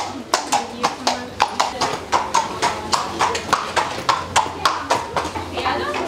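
Horse hooves clip-clop in a quick, steady rhythm on a hard surface backstage at a touring horse show, sharp close hoofbeats with voices talking underneath.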